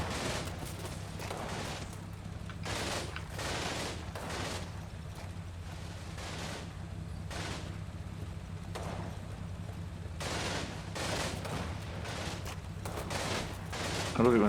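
Gunfire in the World War II strategy game Combat Mission Final Blitzkrieg: repeated rifle and machine-gun bursts crack at irregular intervals over a steady low rumble of ambient battle noise.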